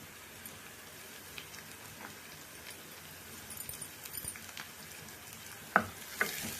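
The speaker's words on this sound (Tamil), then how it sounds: "நிறைய வதங்க வேண்டாம் பாதி வதங்கினா போதும் வெங்காயம் பச்சை மிளகாய்" Onion and green chili sautéing in a pan, a soft continuous sizzle with light stirring scrapes and two sharper clinks near the end, close and fairly quiet, no voices.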